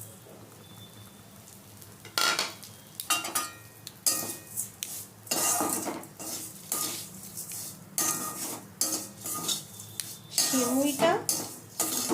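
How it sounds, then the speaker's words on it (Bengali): Vermicelli stirred in ghee in a pan with a bay leaf, giving repeated scraping and clinking of a utensil against the metal pan in uneven bursts, with a soft frying sizzle underneath. "ভাজাই আছে, একটু ঘি দিয়ে নাড়িয়ে নিচ্ছি।"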